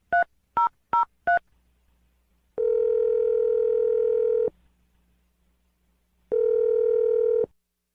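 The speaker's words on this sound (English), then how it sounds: "let's dial the phone number" A telephone dialing a number on a radio show: four short, evenly spaced touch-tone beeps, then two long steady ringback tones separated by a pause, clear and isolated with no talk.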